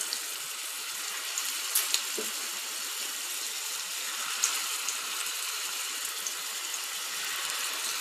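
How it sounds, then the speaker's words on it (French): Chicken meatballs sizzling in oil in a frying pan, a steady soft crackle and hiss throughout with a few faint clinks, no talking. "J'ai rajouté de l'huile dans la poêle, donc je mets les boulettes."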